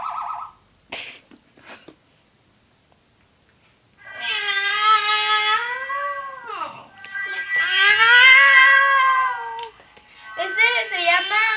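A human voice imitates a cat, giving long, drawn-out meows that rise and fall, three of them in a row, close and fairly loud, with short vocal noises before them.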